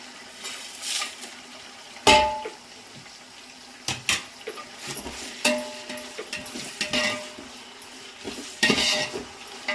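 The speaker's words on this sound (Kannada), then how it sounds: "ಚೆನ್ನಾಗಿ ಗೋಲ್ಡನ್ ಬ್ರೌನ್ ಬರಬೇಕು ಆ ರೀತಿ ಫ್ರೈ ಮಾಡ್ಕೊಳ್ಳಿ" Whole spices for pulao, including bay leaf, cinnamon, cloves, cardamom, mace and shahjeera, fry in a pot with a faint sizzle, broken by sharp metal spoon clanks and scrapes at an irregular pace.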